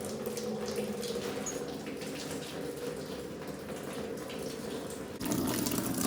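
A garden hose runs into a bucket, a steady close splashing rush of water that deepens and grows slightly louder near the end as the flow or filling level changes.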